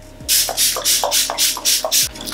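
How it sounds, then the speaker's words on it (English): Several quick hissing bursts of MAC Fix Plus setting spray misted onto a face, about seven short sprays in an even rhythm, close and fairly loud with no talking. "I'm gonna spray my face with some Fix Plus because I'm feeling really dry"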